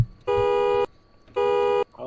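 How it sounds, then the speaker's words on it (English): A car alarm in panic mode within a video game gives two loud, steady electronic honks, each about half a second long, separated by a short gap, with brief background noise between them. "you press panic and your alarm start going off"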